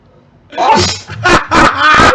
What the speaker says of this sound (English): Oh, it's sneezing.